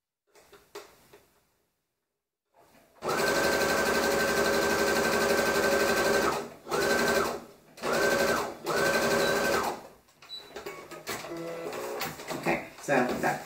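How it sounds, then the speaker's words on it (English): A sewing machine sews a 5/8 inch seam joining garment front pieces, starting with one long continuous run and then three shorter bursts, loud and close, with a voice talking faintly before and after. "I'm going to go ahead and sew a 5/8 of an inch seam to attach the front pieces together"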